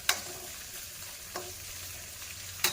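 Okra fries in oil in a pan, a soft continuous sizzle broken by three sharp spatula taps and scrapes spaced across the stretch, fairly quiet and close.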